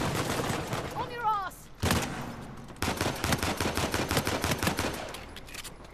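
Gunfire in the multiplayer mode of the video game Uncharted: The Lost Legacy comes as rapid bursts of close, loud shots, broken by a short pause and then resuming as a steady volley, with players talking over the action.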